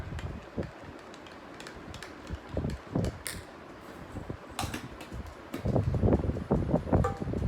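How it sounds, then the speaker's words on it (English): Chocolate-flavoured Protinex protein powder is stirred into milk with a spoon, giving soft irregular clinks and scraping taps against the container, close and fairly quiet, growing busier and denser toward the end. "So I added 3 heaped spoons of Protein X to the milk, and now we just need to stir it up."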